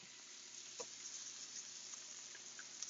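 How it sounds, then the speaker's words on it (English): Vegetables sizzle steadily in a hot pan, a soft continuous frying hiss with a few faint scrapes and clicks of stirring, fairly quiet and close. "I'm going to keep sauteing the vegetables."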